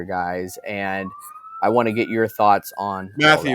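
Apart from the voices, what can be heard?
sirens outside a hospital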